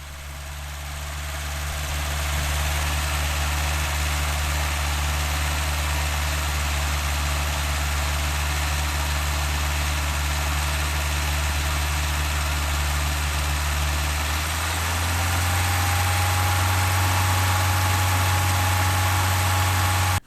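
A car engine fitted with a Weber carburetor runs steadily at about 2500 rpm, a loud, continuous close-up drone that holds even throughout, with the pitch stepping up slightly near the end.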